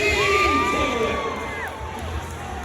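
A large crowd at a ramp-riding trick show cheers and shouts loudly and steadily, with high whoops and yells rising over a dense roar of voices.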